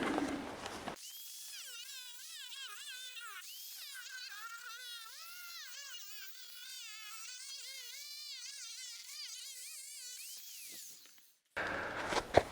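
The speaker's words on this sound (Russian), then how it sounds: "далее мы берем наш лист и распиливаем его" An Onduline roofing sheet being cut, likely with a power saw, as a steady high buzzing whine that wavers in pitch for about ten seconds and then stops, with outdoor background noise before and after.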